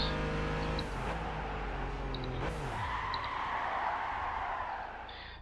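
A car engine in the racing video game Gran Turismo 5 revs hard, with rising and falling engine pitch as gears shift, loud and close throughout before easing off at the end.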